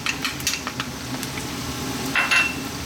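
Garlic goes into a hot pan for Jamaican brown stew chicken, setting off a soft, steady sizzle with occasional clinks of a utensil stirring against the pan.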